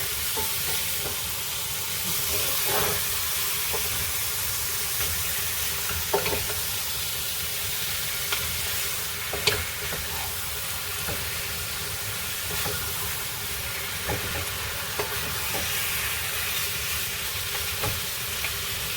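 Steady, dense sizzling of beef, onions and ginger frying in a pan, with occasional clicks and scrapes of stirring, continuous and fairly close.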